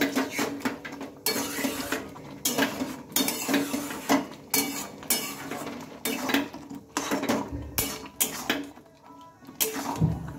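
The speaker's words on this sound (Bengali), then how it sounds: "খেজুরটা দিয়ে আবারও একটু ভালোভাবে নেড়ে চেড়ে নিচ্ছি" Dates being stirred into sugar-free tomato chutney in a pan, giving repeated scraping and clinking of a utensil against the pan in an uneven rhythm, close and moderately loud with no talking.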